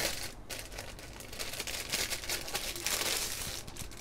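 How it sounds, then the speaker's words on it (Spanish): Packaging of a Subblim keyboard and mouse combo being unwrapped up close, continuous crinkling and rustling of plastic and cardboard with brief tearing bursts, fairly faint, no talk. "Vamos a sacar el embalaje para que lo veáis más por aquí"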